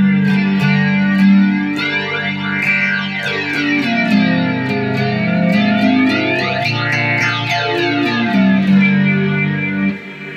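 An electric guitar plays sustained chords through a sweeping digital flanger with vinyl warp off, the tone swooshing up and down in slow repeating waves, loud and upfront.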